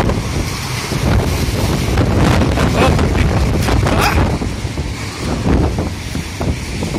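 Loud, gusty storm wind buffeting the microphone outdoors, roaring continuously with surging blasts and no clear speech.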